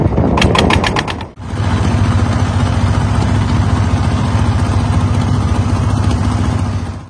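A loud, steady trawler boat diesel engine chugs with a rapid mechanical knock, running continuously close by after a brief burst of clattering at the start.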